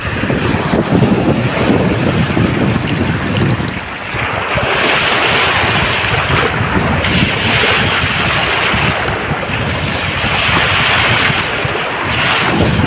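Sea waves wash onto a beach in a steady, loud roar of surf, with strong wind buffeting the microphone throughout and no voices.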